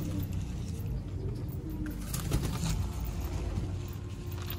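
Several captured pigeons coo in low, overlapping murmurs, a steady soft burble close by with faint background noise throughout.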